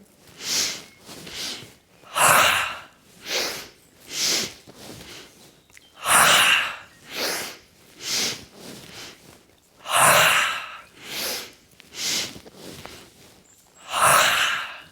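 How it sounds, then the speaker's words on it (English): A yoga class doing rhythmic breathing: repeated short sharp inhales through the nose, each set followed by a longer exhale. The breaths come in an even pulsing pattern, loud and close, with no talk over them. "So it's inhale, inhale, inhale, exhale."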